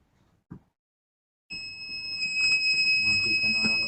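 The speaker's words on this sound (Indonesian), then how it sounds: "Matikan alarm." An electronic alarm starts abruptly and keeps sounding as a loud, steady high-pitched tone during a lighting monitoring and control system test, with people talking beneath it.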